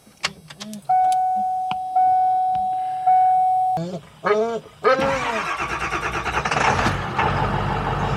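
A few electronic chimes sound before a truck engine cranks briefly, catches and settles into a loud, close, steady idle.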